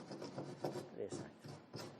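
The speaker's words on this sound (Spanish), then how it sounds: "Acá le podemos pasar esta lijita acá, ¿sí?" Small sheet of sandpaper rubbed over Superboard cement board during ceiling and wall installation, giving a steady close rasping scrape in repeated strokes, with brief voices nearby.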